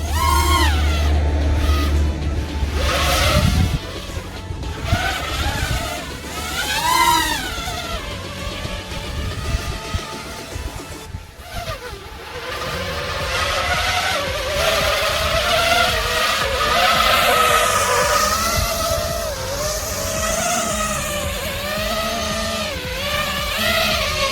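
Small Tero Q215 FPV quadcopter racing drone punching out at full throttle, its motors whining and rising in pitch with sweeping tones, loud and close throughout, wind buffeting at moments.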